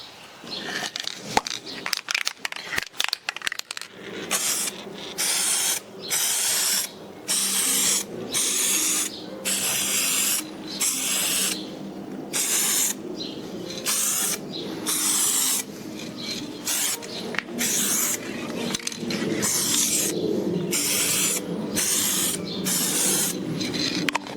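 Model 1/6 scale Bailey Bridge frames and brackets being spray painted, long hissing bursts from a spray gun repeating in a steady on-off rhythm, close and fairly loud, after some brief handling clatter at the start.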